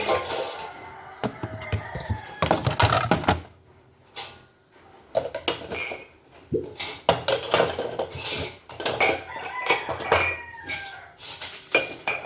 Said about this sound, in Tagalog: Kapag hugas na rin ako ng plato, ilalagay ko na lang dito sa platuhan.